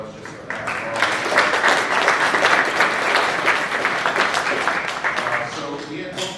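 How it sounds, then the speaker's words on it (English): Audience at a public transit forum breaks into sustained applause, a dense wash of many hands clapping that rises quickly and holds steady for several seconds before tapering off. "let's give them a round of applause just for that."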